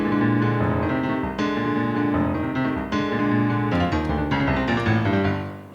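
Busy solo jazz piano intro to The Tom and Jerry Show: dense chords over a simple bass line, continuous and loud with a few sharp accented stabs, no voices.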